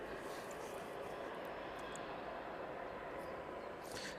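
Airliner landing on runway 09 at East Midlands Airport in the evening, a steady distant roar of engines and rushing air with no talking.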